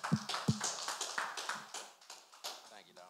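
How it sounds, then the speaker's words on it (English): Audience clapping at a comedy night at a performing arts center, a scattered run of sharp hand claps fairly close, loud at first then thinning out, with voices over it. "Clap it up."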